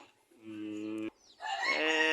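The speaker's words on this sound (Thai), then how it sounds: "เนี่ยห้างไก่อยู่ใต้บ้านเพิ่นนะ ห้างไก่ทำด้วยไม้ไผ่" Chickens in a bamboo coop under a house, with a rooster's loud, sustained crow followed by a second, rougher crow, close and clear with no talking.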